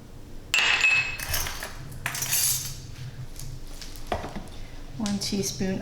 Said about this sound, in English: I'm using the dull end of the knife to clean everything off.